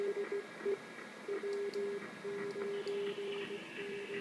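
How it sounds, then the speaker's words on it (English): A steady warbling PSK31 digital radio tone with a keyed on-off Morse code beep pattern cutting in and out, over faint static, received on a USB-controlled SDR. "We're receiving PSK31 and some Morse code at the same time."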